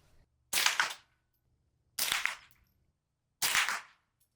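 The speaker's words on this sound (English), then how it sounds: "it's also a blast to shoot suppressed, which is what we're going to do today." Three suppressed shots from a Tippmann M4-22 .22 rifle, evenly spaced about a second and a half apart, each a sharp crack with a short tail, clear outdoors with near silence between.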